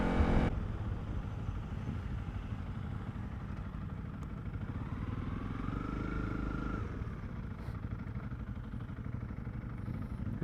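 A Honda CRF 300 Rally motorcycle climbs a steep mountain pass, its engine a steady, moderately quiet drone with some clatter, heard from on board without talking.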